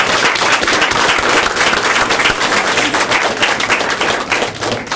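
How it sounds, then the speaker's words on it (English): Loud, crowded clapping fills a school recognition ceremony for the mayor, a thick continuous patter with a few sharper individual claps standing out, running unbroken without speech. "give him a nice round of applause"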